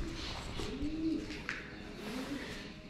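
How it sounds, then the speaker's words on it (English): Pigeons coo softly in deep stone catacombs among tombs, low murmuring calls repeating at a moderate distance over a faint hollow background hum. "this whole place is just flooded with pigeons"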